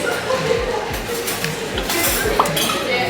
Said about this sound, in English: Stir well before I drink.